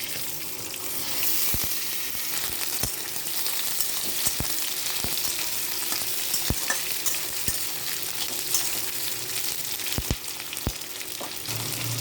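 Onions go into hot oil with ginger and garlic and fry in a steady, dense sizzle, while regular sharp scrapes and taps of a spoon stirring the pan cut through at close range, with no talking.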